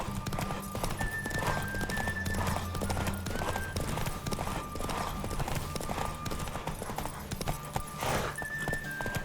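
Rhythmic hoofbeats of a galloping horse in The Witcher 3: Wild Hunt carry through the whole stretch over a steady game soundtrack, with an occasional whinny.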